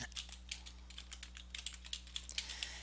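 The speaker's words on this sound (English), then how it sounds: "first we're just going to type Audacity" Keys clicking on a computer keyboard in a quick, uneven run of light taps, close and fairly quiet over a steady low hum.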